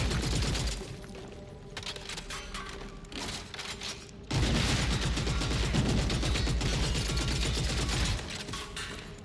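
Gunfire in the video game Gears of War: E-Day comes as a dense, continuous fusillade of rapid shots and mechanical clatter, loud and close, with a short lull before an even heavier burst.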